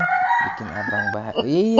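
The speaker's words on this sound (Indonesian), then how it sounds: "Itu suara ayam." A rooster crows in PUBG Mobile, one drawn-out, wavering cock-a-doodle-doo heard up close and loud, with someone talking over it.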